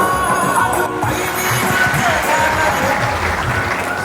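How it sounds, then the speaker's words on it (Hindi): An audience applauds steadily and loudly to welcome a speaker onto the stage, the clapping sustained throughout with faint crowd noise mixed in. "कुछ ताली में इस्तकबाल कीजिएगा"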